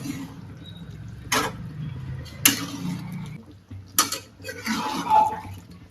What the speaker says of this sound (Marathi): मसाल्यामध्ये मटण टाकून मस्त असं हलवून घ्यायचंय